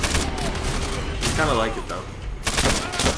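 Rapid automatic gunfire from a gun in the Call of Duty: World at War video game, loud and close in bursts around a voice talking briefly mid-way.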